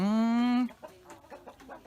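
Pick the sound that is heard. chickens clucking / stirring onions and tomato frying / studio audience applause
chickens clucking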